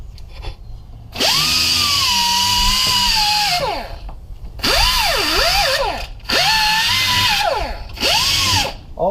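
A power tool grinds a burr off the broken shaft of a Bull Dog 500161 fifth-wheel electric landing gear jack, loud whining bursts that spin up, bog down with wavering pitch and cut off, repeated four times, with no talk.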